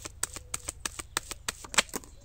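A deck of oracle cards is cut by hand, producing a quick run of about a dozen crisp, close card flicks and riffling taps, with no talking.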